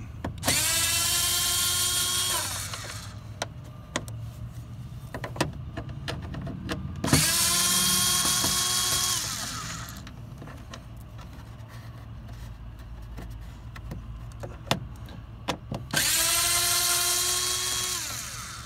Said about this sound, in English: So I'm going to take the 3 screws out.